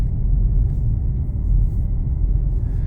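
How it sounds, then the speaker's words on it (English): A car driving along a road in a Florida retirement town, a steady low rumble of engine and tyres heard from inside the cabin, constant and fairly loud with no voices. "I am driving into Sumter Landing."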